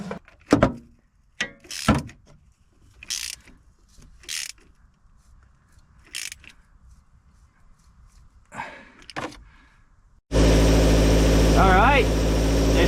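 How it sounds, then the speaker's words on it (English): A car with a freshly welded crankshaft pulley repair: scattered metallic clanks and knocks, then the engine starts and runs loud and steady through the final seconds. "Engine seems to have a lot less vibration, so that's a good thing."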